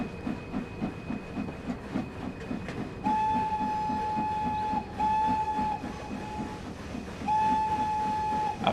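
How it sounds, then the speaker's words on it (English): Steam train running in Train Sim World 3 on the Peak Forest Railway: steady rhythmic chugging and wheel clatter throughout, with three sustained whistle blasts, a long one then two shorter ones, loud and close. "Let's turn up the sound so you guys can hear the train."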